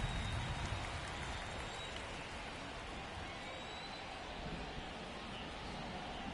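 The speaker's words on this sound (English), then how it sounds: "the field's not going to be able to hold up if the rain gets any worse than this" Steady rain falls on a baseball field in the video game The Show 23, a dense continuous hiss of drops with faint low rumble, even and unbroken throughout.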